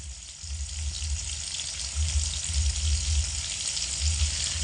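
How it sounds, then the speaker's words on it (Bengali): Eggplant pieces seasoned with salt and turmeric frying in oil over high heat, giving a continuous, even sizzle with a low bubbling rumble, close and steady throughout with no voices. "নুন আর হলুদ দিয়ে হাই আঁচে রেখে বেগুনগুলোকে লাল করে ভেজে নেব"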